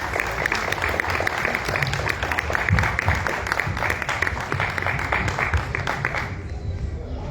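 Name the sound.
audience applause welcoming a speaker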